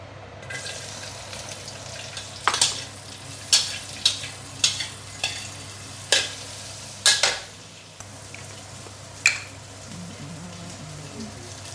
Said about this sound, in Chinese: 这个青辣椒，我就炒一下